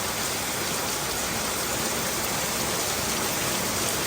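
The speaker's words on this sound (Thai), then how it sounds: "ฝนก็เริ่มตกแล้วนะทุกคน" Heavy rain falls steadily in Vientiane, a constant loud wash of drops on surfaces with no pauses or voices.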